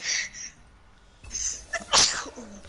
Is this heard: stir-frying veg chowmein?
no